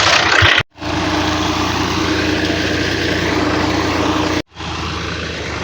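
A tractor engine runs steadily outdoors on a farm, loud and close with a constant droning rumble, cut by two brief dropouts.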